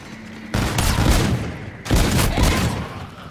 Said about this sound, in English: Jeez, that gun's loud.